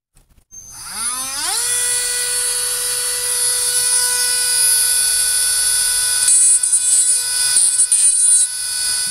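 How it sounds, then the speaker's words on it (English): Dremel rotary tool drilling and rounding off a hard plastic barb for an air intake, its high whine spinning up quickly and holding steady, then wavering under load near the end, close and loud. "All right, Dremel work done."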